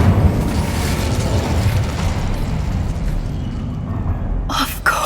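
A fiery burst from the Incendio spell in Hogwarts Legacy, a dense, sustained roar of flame with a rumbling low end that ends in a couple of sharp crackling pops.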